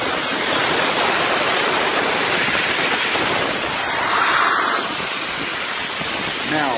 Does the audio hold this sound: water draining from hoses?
yes